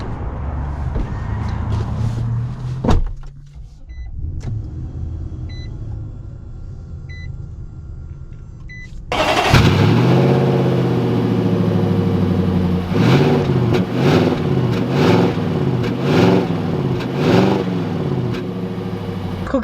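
A 2021 Nissan Titan PRO-4X pickup goes from a quiet cabin with soft chimes to its engine starting with a sudden roar, then rumbles and revs as it pulls away, close and steady throughout.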